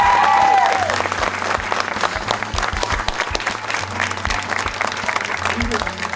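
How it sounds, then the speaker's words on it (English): Audience applause at a community education event in South Central LA, a steady wash of many hands clapping that stays loud throughout, with some background voices and speech mixed in. "Let's give them another round of applause."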